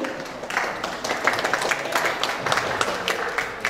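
Audience applause welcoming a professor at a book launch event in Yogyakarta, a dense, steady crowd clapping with a slight swell in the middle.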